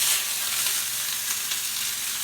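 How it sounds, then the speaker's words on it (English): Ground turkey sizzles in hot oil in a cast iron skillet, a steady close hiss of frying with faint crackles and no talking. "Nice sizzle there."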